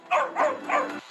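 A voice imitates a dog barking, giving three quick yapping barks in a row, close and fairly loud.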